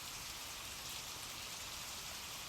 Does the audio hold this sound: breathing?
no